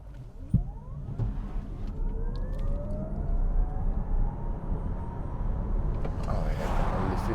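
A VinFast VF 8 electric SUV accelerates hard in sport mode, its electric motor whine rising steadily in pitch under a loud rush of road and wind noise.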